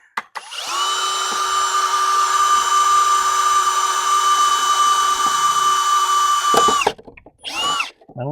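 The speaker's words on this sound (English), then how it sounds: "Might want to drill some holes in the bottom." A power drill bores holes in the bottom of a seed-starting container, a steady loud whine running about six seconds with strong harmonics, then a short second burst.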